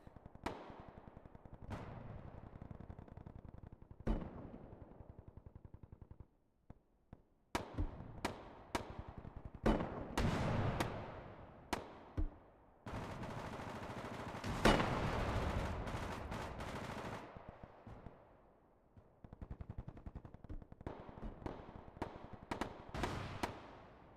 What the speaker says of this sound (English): Machine guns, RPG, or machine guns, grenade launchers.